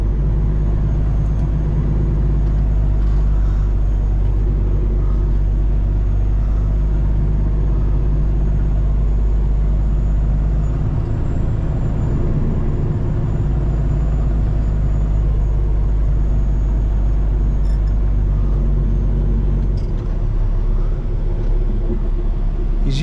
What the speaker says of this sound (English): Oh, what is that school bus doing?